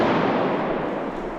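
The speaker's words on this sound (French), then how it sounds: "Attention. Grenade." An airsoft grenade bursts during an outdoor milsim game near Le Havre, giving a loud, close, hissing blast that fades out over about a second and a half.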